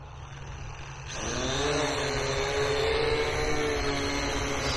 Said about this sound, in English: You can tell those brushless motors are working hard.